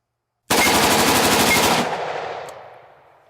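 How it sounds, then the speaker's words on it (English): SIG SG 552 Commando rifle firing full auto: one rapid, loud, continuous burst of gunfire lasting over a second, close by, then a fading echo and ringing tail. "I'm going to finish the mag off on full auto"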